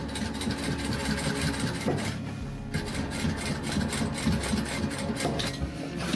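A sewing machine back-stitches a water bottle bag, its motor whirring in a steady mechanical run for several seconds, with a short pause partway through.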